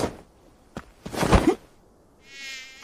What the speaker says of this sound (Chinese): 你头上有只大绿头苍蝇！